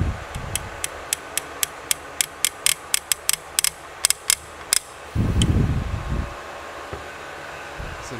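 A new torque wrench on ATV engine bolts, giving a run of quick ratcheting clicks with a steady background hum, followed by a brief louder scraping rustle.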